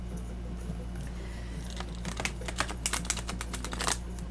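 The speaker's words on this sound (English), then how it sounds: "This deck has not been shuffled yet. I'm going to shuffle it." A deck of fairy oracle cards being shuffled by hand, starting soft and turning into a rapid run of crisp riffling clicks over a steady low hum.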